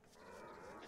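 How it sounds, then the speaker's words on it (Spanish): A dog in the game Don't Starve Together gives a short, faint whining bark that swells and holds briefly. "Mi perro se está rayando con el ruido."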